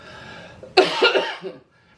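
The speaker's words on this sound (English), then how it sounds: "the cough is still resuming" A single harsh cough bursts out after a moment of quiet breathing, followed by a couple of smaller raspy coughs that trail off.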